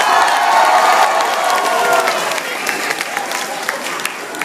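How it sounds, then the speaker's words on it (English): A concert crowd applauds and cheers, loud at first with whoops over a wash of clapping, then thinning out to scattered claps as a voice begins to speak. "let's give him one more round of applause"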